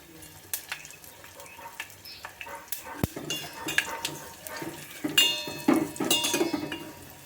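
Dry red chillies and tempering frying in a pan, with a soft sizzle under repeated clinks and scrapes of a spoon stirring against the metal, growing busier and louder toward the end, close by and without talk.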